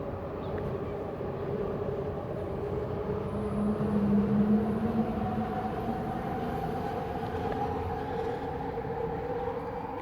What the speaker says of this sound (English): Trains are loud today for some reason.